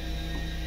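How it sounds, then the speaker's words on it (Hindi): Ratchet wrench loosening a 7 mm nut and bolt during dashboard removal on a 2011 Chevy Traverse, a brief close mechanical clicking over a steady low hum. "नट खोलता हूँ मैं, बोल्ट खोलता हूँ"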